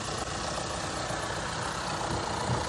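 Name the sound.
car engine rattle from low or dirty oil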